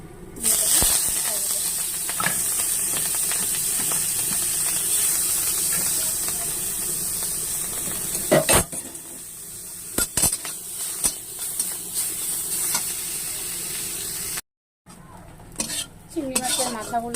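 Prawn heads coated in salt and turmeric fry in a little hot oil in a wok, giving a loud, continuous sizzle and hiss broken by scraping and clanking of a spatula as they are stirred, with a brief silent gap near the end.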